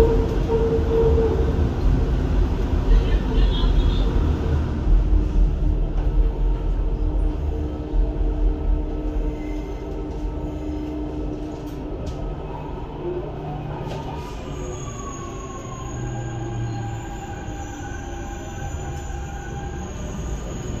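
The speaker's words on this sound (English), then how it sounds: "This train terminates at the next station." A Dubai Metro train runs on its rails, a loud, close, continuous rumble with rattling and a faint high wheel squeal toward the end, heard from inside the car.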